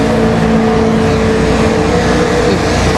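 A NASCAR Nationwide race car roars through a qualifying lap at Las Vegas Motor Speedway, its engine a loud, steady, sustained drone that holds nearly unchanged throughout with no pass-by swell.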